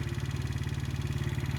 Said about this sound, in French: Premier tour de scooter.